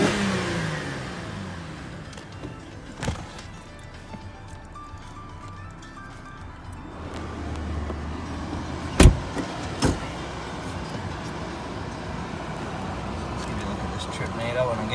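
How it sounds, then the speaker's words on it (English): A 2008 Holden Commodore engine idles and then revs up, rising and falling, with a few sharp clicks or knocks around the cabin and someone talking over it. "Give the car a rev for you."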